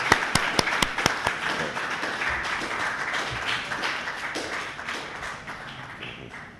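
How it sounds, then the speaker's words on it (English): Conference audience applauding a speaker, Professor Davidson, at a Jamaican cannabis industry event: a few sharp near claps at first, then steady, dense clapping from a crowd that slowly tapers off. "I ask you again to applaud Professor Davidson for that very interesting"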